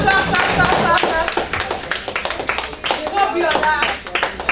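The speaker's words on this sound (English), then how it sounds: "Clap." A group claps hands together in a lively gathering, the sharp claps landing in quick irregular bursts while voices talk over them throughout.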